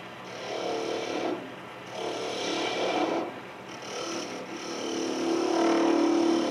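Slow rasping strokes of a file on the top edge of a turned wooden cup for a cup-and-ball game, several rough broadband scrapes repeating about every second or two, close and moderately loud.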